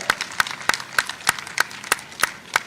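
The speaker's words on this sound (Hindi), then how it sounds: "और आप लोग तालियां बजाएं" Sharp, regular claps, roughly three per second, loud and close, like a small group clapping in unison rather than a full crowd, at a small cobblers' community conference in Bhopal, India.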